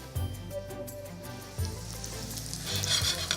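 Gyoza hiss and sizzle in hot oil in a pan, a continuous frying crackle with a few soft thumps as dumplings are set down and the sizzle swells toward the end.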